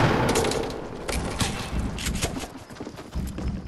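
Video game gunfire comes as rapid bursts of sharp shots with a clattering, rhythmic texture under faint background noise, fairly loud and close.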